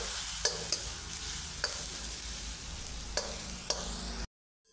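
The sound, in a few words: stirring and roasting spices for paneer bhurji in a pan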